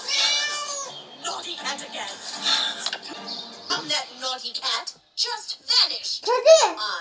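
A cat meows in the Scary Teacher video game, with several short rising meows clustered near the end while children chatter excitedly over most of the scene.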